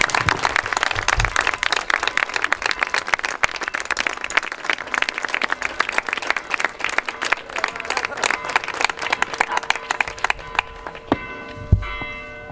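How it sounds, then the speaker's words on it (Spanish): An audience at a public talk on corruption in Majadahonda breaks into a long, dense round of applause that carries on steadily, with a faint tonal ringing appearing near the end. "nos gustaría que diésemos un fuerte aplauso"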